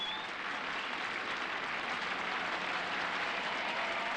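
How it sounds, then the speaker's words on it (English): Crowd applauding at a sporting event, a steady, fairly distant wash of clapping that holds evenly throughout. "And the crowd from Russian Idol loves it."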